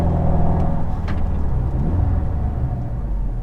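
A car speeds back up to 35 mph during brake pad bedding runs, its engine rumbling and rising steadily at close range for a few seconds with no talk over it.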